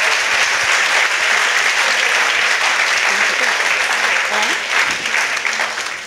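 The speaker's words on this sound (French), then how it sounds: "On peut l'applaudir." A crowd applauds in the Espace des Amis de l'Humanité at the Fête de l'Humanité 2023, a loud, continuous wash of clapping that holds steady for six seconds before easing off slightly at the close.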